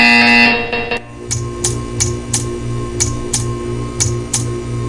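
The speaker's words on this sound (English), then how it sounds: "You will hear a buzzer. When you hear the buzzer, stare at the art." A buzzer in the video game Portal 2 sounds as a steady loud tone, then gives way to a regular series of sharp ticking clicks spaced about a third of a second apart.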